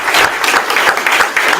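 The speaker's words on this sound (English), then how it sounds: "can we give them a big round of applause?" Audience at a product management meetup applauds the speakers, a close, loud burst of steady group clapping with no talk over it.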